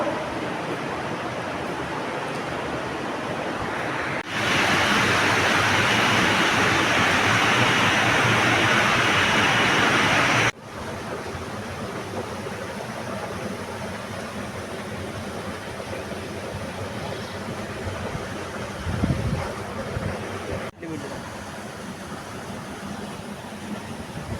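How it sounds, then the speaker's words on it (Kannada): Water rushes steadily through an aerator at the Kompadavu multi-village drinking water treatment plant, a dense broadband roar that swells louder for several seconds in the middle before settling back to a constant flow. "ನಮಗೆ ಇಲ್ಲಿ ಏರಿಟರ್ ಮುಖಾಂತರ ನೀರು ಬರುತ್ತೆ"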